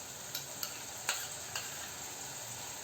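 Onions frying in a pan with a ginger, garlic and coriander paste, a soft steady sizzle broken by a few sharp stirring clicks and taps, close and fairly quiet, with no talking.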